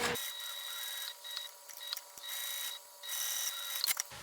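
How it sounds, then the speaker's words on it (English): A sewing machine top stitches down the sides of a fabric bag, running in several bursts of steady mechanical whirring with short pauses between them, close and clear, no talk. "I'm just going to top stitch down each side with the seam allowance given in the pattern"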